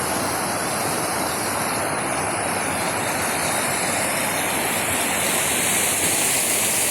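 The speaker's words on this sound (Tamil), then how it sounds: "இன்றைக்கி எவ்வளோ தண்ணி போகுது பாருங்கள்" Loud, steady rush of fast-flowing water filling the whole clip, a dense broadband roar with no voices and no breaks.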